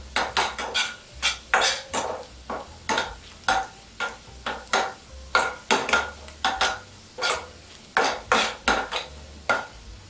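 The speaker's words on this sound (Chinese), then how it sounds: "红葱头要煸至红葱酥" Shallots stir-fried in a pan over medium heat until crispy: a steady, regular scrape-and-clatter of a spatula against the pan, about two strokes a second, with a faint sizzle underneath.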